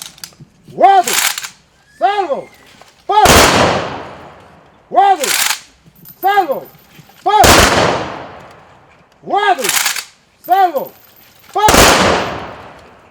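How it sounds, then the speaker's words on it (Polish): Three loud rifle volleys of an honorary gun salute at a Polish Home Army memorial roll call, each sharp crack decaying into echo, separated by shouted military commands in between. "Do salwy honorowej!"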